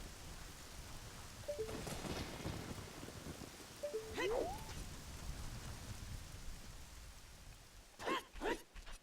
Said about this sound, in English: now it's raining, it's all wet up here